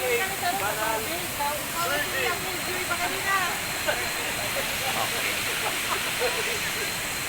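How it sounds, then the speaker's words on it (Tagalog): Matikawol Falls in Mapanas, Northern Samar roars as a steady, broad rush of falling water, with people talking throughout over the constant noise. "Ang ganda ng falls."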